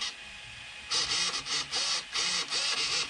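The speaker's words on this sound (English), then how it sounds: "So we do got servo turning down there." The steering servo on an Arrma Outcast RC car whirs in short bursts of high-pitched electric buzzing, several quick back-and-forth turns close by over a faint steady hum.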